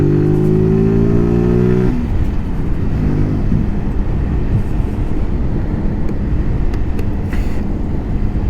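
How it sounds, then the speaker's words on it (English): A Zontes ZT125-U1 125cc motorcycle pulls away from a junction, its engine rising through a rev sweep over the first two seconds before settling into a steady, loud running drone close by. "Pulling away from the junction's a dream."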